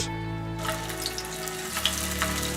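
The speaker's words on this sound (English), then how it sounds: "and fry in oil over medium-high heat" Slices of New Year sticky rice cake with beans, wrapped in banana leaf, fry in oil over medium-high heat, a steady close sizzle with faint crackles and no talking.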